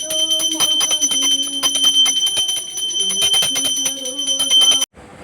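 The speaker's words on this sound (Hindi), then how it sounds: "तो ये हमारी घंटी की आवाज़ है" Large brass puja bell struck rapidly and repeatedly at home during Dhanteras worship, loud bright metallic clangs with long ringing overtones, continuing for about five seconds before stopping abruptly.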